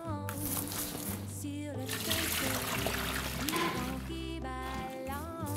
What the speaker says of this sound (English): And then what we'll do is we'll add our water.